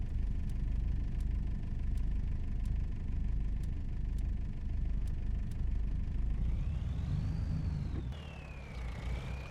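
A Mercedes-Benz truck engine idles in Farming Simulator 25 with a steady, loud low rumble and faint periodic ticks, and a rising and falling whine enters near the end.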